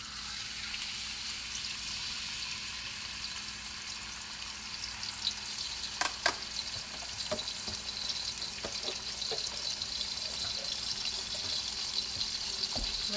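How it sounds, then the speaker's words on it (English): Thinly sliced raw meat sizzles and spits in a hot pan while cooking drunken noodles, a steady bright frying hiss with a few sharper pops and clatters, fairly close and without talk. "I'm going to cook the raw meat now."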